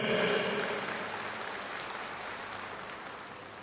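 Audience applause during a public speech in Thrissur, a burst of clapping that starts loud and gradually thins out over a few seconds, with no talking on top.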